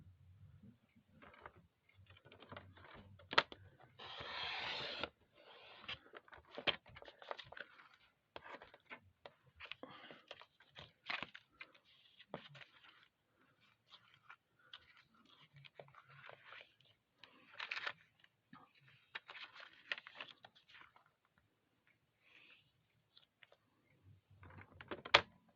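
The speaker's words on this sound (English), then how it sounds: "just continue trimming this off" A paper trimmer slices through card stock resting on a protective sheet, giving repeated dry scraping and crunching strokes in irregular bursts over about 25 seconds, close and moderately loud.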